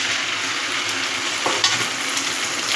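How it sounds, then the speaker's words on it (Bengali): Fried onions sizzle in a pan as ginger, garlic and chili paste go in for a soybean and egg curry, a loud continuous crackle with a few sharper stirring scrapes and clinks near the middle. "পেঁয়াজটা ভাজা ভাজা হয়ে গেছে। এর মধ্যে আমি দিয়ে দিচ্ছি আদা, পেঁয়াজ, রসুন, লঙ্কা বাটা"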